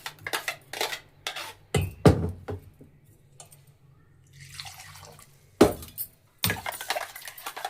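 Ground chutney scraped out of a mixer jar into a bowl, heard as a few sharp metal clinks and knocks, some in quick bursts, with quiet stretches and a soft rustle between them. No one speaks.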